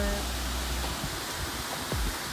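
Steady, dense rush of falling water from the largest of the seven Tatlıca waterfalls in the nature park at Erfelek, Sinop, a continuous broadband roar heard close and unbroken, with no voices.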